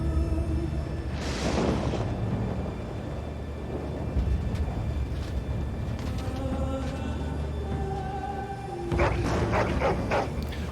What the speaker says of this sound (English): Doggos are ready to go.